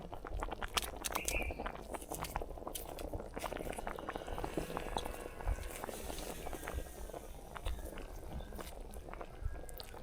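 Water with saag greens bubbles at a steady boil in a pot in a village kitchen, a continuous soft rolling patter with scattered small pops throughout.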